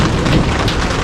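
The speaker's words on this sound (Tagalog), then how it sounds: "Pinabot ng ulan." Rain falling during an outdoor gathering, a dense, steady hiss that stays close and continuous for the whole second with no voices.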